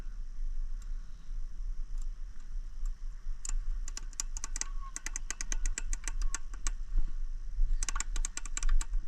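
Worn shift fork bearings inside a transmission running in forward gear make rapid clicking and ticking, in irregular bursts over a low steady engine hum.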